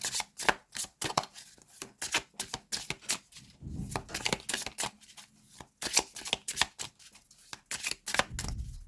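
A deck of playing cards is shuffled by hand, bursts of rapid riffling and flicking close up, several separate shuffles with short pauses between.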